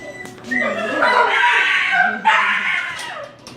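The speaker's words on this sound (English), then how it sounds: "He doesn't know how to bark so much as scream." Several kennel dogs bark and scream with high, strained yelps and shrieking cries, loud and sustained across the whole stretch with a brief dip midway, no talk over them.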